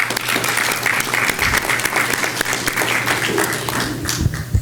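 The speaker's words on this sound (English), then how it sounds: "Let's give them a round of applause." Hearty applause from a school board meeting audience honors the Hightower High School JROTC color guard, continuous and fairly close, with a low hum running underneath.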